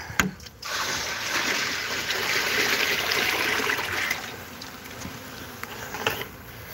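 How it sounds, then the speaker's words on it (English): A bucket of water is poured out outdoors near beehives, a continuous splashing rush lasting several seconds at close range, preceded and followed by brief knocks of the bucket. "Let me pour this other bucket here"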